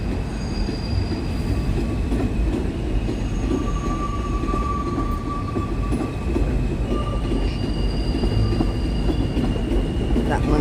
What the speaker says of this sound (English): the train coming in right there. So we got two trains meeting.